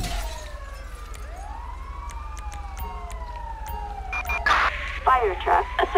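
Fire truck siren in the GTA 5 video game wails with sweeping up-and-down tones over a low engine rumble, joined near the end by bursts of gunfire-like cracks and other game noise.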